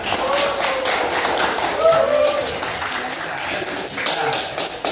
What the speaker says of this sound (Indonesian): Kita kasih tepuk tangan buat diri kita sendiri